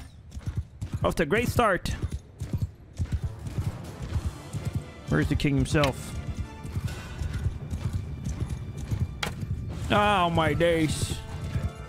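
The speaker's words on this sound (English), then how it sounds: "Wow, I hit a horse." Cavalry horses clip-clopping in a battle in Mount & Blade 2: Bannerlord, a steady rumble of hooves with occasional whinnies running throughout under a man's loud, excited talk.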